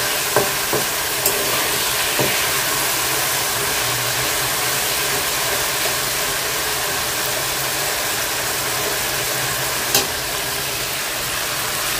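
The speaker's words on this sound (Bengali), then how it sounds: "তো এখন মুরগিটা আমি ভেজে নিচ্ছি, ভাজার মধ্যেই কিন্তু মুরগিটা সিদ্ধ হয়ে যাবে।" Chicken fries in a pan with a continuous loud sizzle and hiss, broken by a few sharp clinks of utensils, with no talking.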